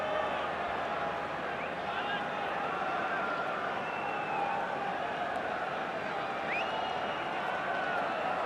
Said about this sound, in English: He gets a small round of applause.